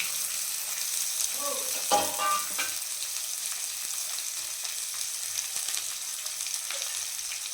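Chopped onion with coriander and curry leaves tipped into hot oil for a brinjal palya, a loud crackling splash and brief stirring that settle into a steady close sizzle.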